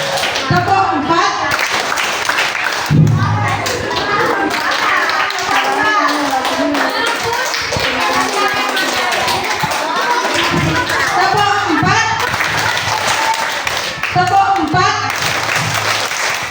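Schoolchildren at a primary school Ramadan program clap together in a counted clapping game, bursts of rhythmic group claps alternating with an adult calling out counts and children's voices.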